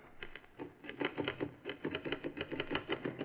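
Rapid typewriter keystrokes in an uneven patter from a man typing a letter at a desk in a large, comfortable room, a radio drama scene, fairly quiet and steady throughout.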